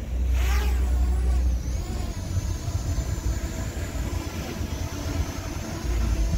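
An L900 Pro drone hovers outdoors in strong wind, its motors giving a steady whirring drone with a high thin whine above heavy low wind rumble and buffeting throughout.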